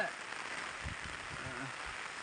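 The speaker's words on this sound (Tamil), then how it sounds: "என்னங்க நல்ல மழைங்களா நல்ல மழை" Heavy rain falling steadily on crop fields, a dense continuous hiss throughout with faint low voices underneath.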